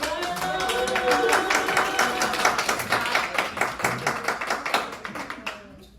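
Audience at a writers' panel at the San Diego Writer's Fest claps in a dense, steady patter for about five seconds, tapering off at the end, with voices and a few cheers mixed in.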